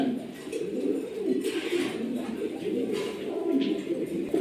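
Huma pigeons coo steadily in a loft, a continuous low murmur of overlapping calls from several birds close by, with no talking.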